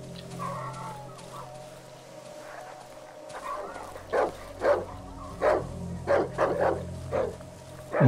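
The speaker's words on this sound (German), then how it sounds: "Das sind noch mehr Hunde." Dogs barking in the horror game Darkwood, a series of sharp barks in short irregular bursts, moderately loud over a low ambient drone, growing more frequent toward the end.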